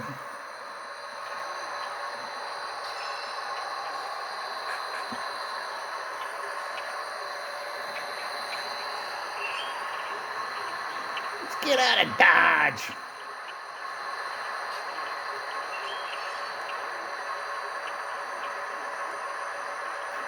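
An HO scale model train runs on a layout, a steady low rolling hum with a brief louder clatter midway, while someone speaks in the room.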